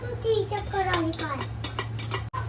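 Tomato puree being stirred into roasting spices in a metal cooking pot, with scraping utensil clinks and scrapes against the pot over a steady background hum, a voice briefly heard.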